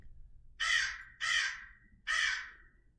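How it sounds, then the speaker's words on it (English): A crow caws three times, loud, harsh and close, with short pauses between calls and quiet around them. "Sounds like a crow."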